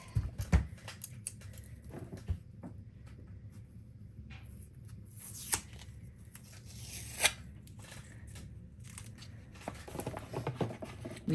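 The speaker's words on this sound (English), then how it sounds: "this is a giant roll of transfer tape that I have from my crafty days. And we're just gonna cut off a little chunk of it." Scissors cutting a chunk off a large roll of transfer tape, heard as a few faint, close snips and crinkles with soft handling rustles in between.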